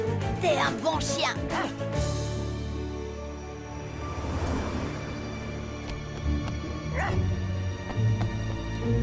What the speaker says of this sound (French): T'es un bon chien.